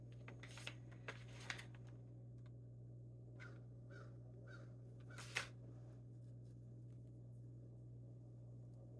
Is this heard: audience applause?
no